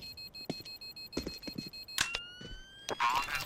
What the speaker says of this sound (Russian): Бомба, как же пищит-то сильно!